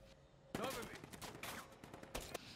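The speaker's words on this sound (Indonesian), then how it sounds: "lalu mulai menembaki Nasir yang posisinya sedang terbuka" A burst of gunfire, several sharp shots cracking in quick succession with echoing tails, fairly distant and noisy.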